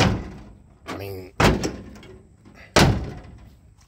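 Doors on a 1965 Chevy C10 pickup, whose doors are out of alignment, are shut twice with heavy metallic slams spaced about a second and a half apart, close by, with someone briefly speaking before the first.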